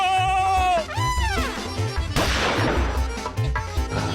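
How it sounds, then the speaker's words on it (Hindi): A sudden cartoon gunshot bang in a Motu Patlu cartoon bursts in after a run of sliding, whistle-like comic effects and music, its crash decaying into a noisy rattle. "मुझ पे गोली चलाया।"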